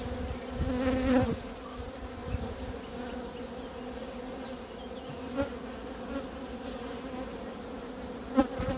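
Honeybees swarm and drone around an open beehive in an apiary, a steady close buzzing hum throughout with a few louder passes near the listener.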